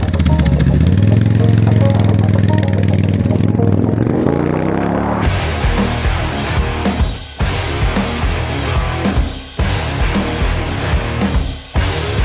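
Cheap motorcycle engine running loudly and close, a steady idle that rises in pitch over the first few seconds, then a harsher, busier engine roar with brief dips in level.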